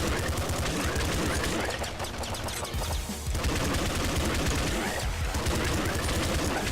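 Rapid SMG fire and bullets in a shooter video game, a dense, continuous clatter of shots that barely lets up across the whole stretch, with a brief dip in intensity partway through.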